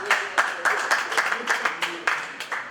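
An audience at a live music show claps for the artist, a steady patter of hands lasting a few seconds with voices calling over it.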